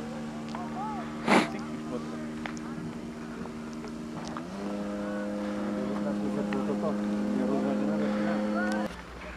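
Petrol engine of a Seawind amphibious plane running on snow, a steady droning hum with harmonics that shifts up in pitch midway and cuts off near the end, with a brief burst of noise early on.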